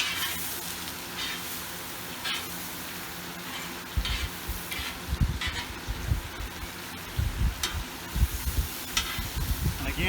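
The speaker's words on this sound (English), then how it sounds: "Come back, give that a stir." Fajita vegetables with fajita seasoning sizzling on a hot griddle over a Watchman stove, a steady frying hiss throughout, then a spatula stirring them in a run of close scraping, clattering strokes.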